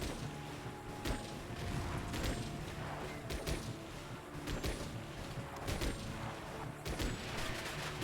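Large-caliber shotgun blasts in the mech combat game Chrome Hounds, a run of sharp booming shots spread through a dense, noisy battle backdrop.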